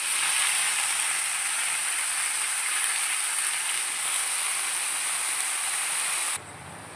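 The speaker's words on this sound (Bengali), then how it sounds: "এবার আমি শাকগুলো এর মধ্যে দিয়ে দেবো।" Washed spinach greens are dropped into a hot pan and sizzle loudly in a steady, bright hiss that carries on evenly, then drops off abruptly near the end.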